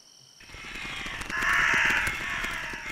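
Crows caw in the video game Lakeview Cabin Collection, a few harsh calls rising over a dark ambient background, the loudest caw swelling in the middle before settling back.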